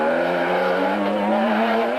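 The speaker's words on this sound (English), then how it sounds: "That there is the sound of Grobler and Moore in the Nissan, just 18 seconds behind and pushing for all they were worth" Nissan rally car in the Eastern Cape 500 in 2008, flat out at full speed, its engine holding a loud, steady high-revving drone throughout, close to the listener with no voices.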